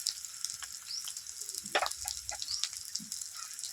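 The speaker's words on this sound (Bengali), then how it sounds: "আদা রসুন পেঁয়াজ কিছুক্ষণ নাড়াচাড়া করে নিয়েছি" Ginger, garlic and onion frying in a pan, a soft sizzle broken by a few spoon scrapes and clinks as they are stirred, faint and close.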